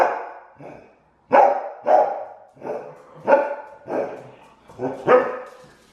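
An elderly 11-year-old dog barks about nine times at a steady pace, loud and close, each bark short and sharp with brief gaps between.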